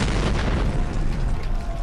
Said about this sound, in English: And yet another explosion.